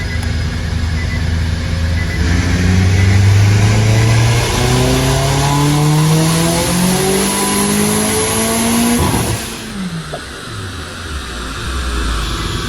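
Ethanol-powered Nissan Cube engine revving hard on a dyno: loud rising engine note climbs steadily for about nine seconds, then cuts off and drops back to a lower idle-like drone.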